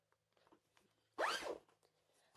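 A zipper on the outer bag of an upright vacuum cleaner is pulled in one quick, bright rasping stroke, close and clear, between faint handling noises in an otherwise quiet room.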